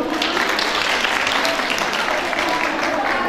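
Steady, loud applause from a crowd at an International Women's Day programme, continuous and even throughout with no talk over it.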